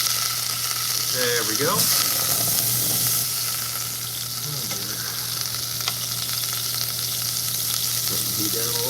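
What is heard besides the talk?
tablespoon of butter sizzling in a pan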